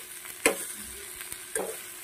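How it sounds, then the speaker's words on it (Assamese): Food fries in a small wok with a steady close sizzle, punctuated by a few sharp knocks and scrapes of a spatula being stirred against the metal. "সৰু কেৰাহীতে ভাজোঁ আৰু বেছি সময় নালাগে পটককৈ হৈ যাব"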